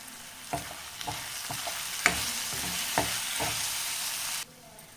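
Liver fry cooking in a pan with chilli powder, coriander and curry leaves, sizzling steadily with a few sharp clicks of stirring, then cutting off abruptly near the end.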